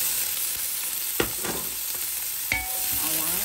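Garlic and onion fry and sizzle steadily in a pan for kare-kare, with a few sharp scraping clicks as a utensil stirs them and a brief voice speaking over the continuous crackle.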